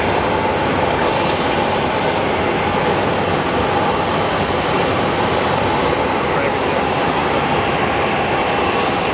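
Broadband jet engine roar of a Gulfstream G450 business jet at Phoenix Sky Harbor International Airport, steady and loud throughout with a faint whine, people talking at times underneath.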